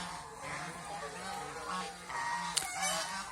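Ducks on a laying farm in Mohanganj, Netrokona, give repeated nasal, honk-like calls at close range in a steady rhythm over a low background murmur.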